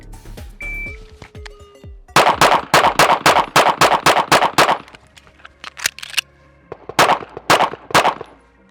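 Gunshots ring out during a timed shooting run at targets: a rapid string of about nine sharp, loud shots, a couple of spaced single shots, then another quick burst of several more.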